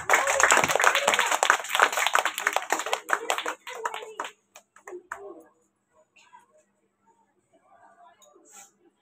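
Children at a school Teachers' Day event clap for reading competition winners, a fast, dense burst of many hands over the first few seconds that thins into scattered claps and fades to near quiet, with a voice mixed in.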